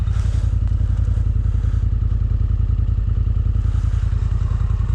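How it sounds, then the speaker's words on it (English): Polaris snowmobile chugging through snow, a loud, steady low engine drone with rapid pulsing firing beats and occasional clatter, close and continuous with no voices. "Just chugging through the snow, boys."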